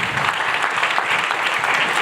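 Keynote audience at an ecommerce agency summit in Austin gives a round of applause, a thick wash of many hands clapping at steady volume throughout, no voices over it.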